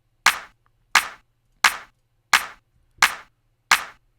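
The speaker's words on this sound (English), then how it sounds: "I reckon we could probably get a clap in there" A sharp clap sample layered over a drum and bass snare pattern repeats six times at an even, brisk rhythm, each hit crisp and bright with a short decay, standing alone against near silence.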